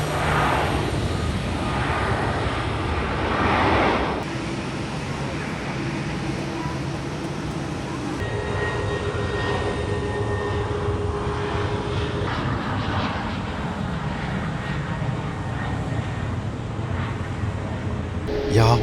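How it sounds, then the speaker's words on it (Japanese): Airplanes at an airport runway give a steady, loud, broad jet roar that shifts in character several times across the stretch, with faint tonal engine whines above it and no clear talk. "飛行機いっぱいです。 すごい迫力です。"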